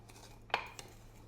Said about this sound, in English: Take out my scoop and get a measure cup so that I can be precise